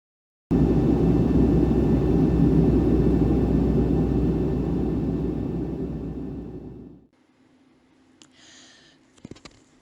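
Inside the cabin of a passenger plane leaving Seattle-Tacoma Airport, a loud steady engine rumble and roar fills the space, then fades away and drops off abruptly, followed by quiet with a few faint clicks.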